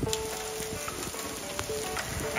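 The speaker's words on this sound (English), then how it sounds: "It's starting to hail, actually." Hail and rain fall during an Arizona monsoon as a dense, steady patter with sharp scattered ticks of hailstones striking hard surfaces close by; no one speaks.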